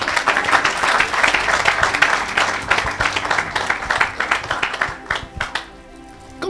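A church congregation claps and cheers in acclaim of Jesus. The applause is dense and sustained at first, then thins into scattered claps before fading out.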